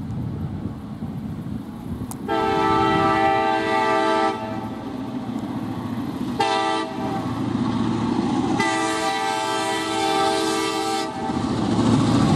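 A CN freight train, the 568 running between St Marys and Stratford, sounds its horn in a long, long, short, long pattern, loud and close, over a steady rumble of rolling cars with no talking.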